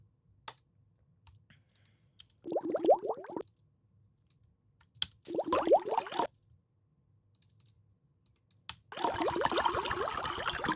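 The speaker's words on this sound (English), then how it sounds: "And let's add some bubbles to that part." Bubbling liquid sound effects layered into a black-liquid sound design piece come in three separate bursts of gurgling, popping bubbles, the last one longer and denser, with near silence between them.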